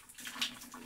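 Shower water spraying while a scared cat is bathed, a soft steady hiss of running water with a brief brighter splash midway.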